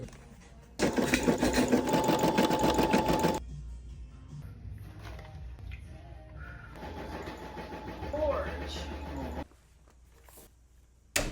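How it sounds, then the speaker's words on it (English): A sewing machine stitches a fabric pie carrier for a DIY project in two bursts: a long, loud stretch of steady rapid whirring, a quieter pause, then a second, shorter run of stitching. "let's just sew it up and see if I can do it."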